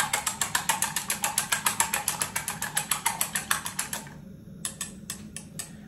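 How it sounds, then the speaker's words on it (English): Eggs being whisked in a bowl: a fast, steady run of crisp, regular clicks for about four seconds, then a few scattered taps, close and clear with no speech. "So I'm going to start to whisk the eggs."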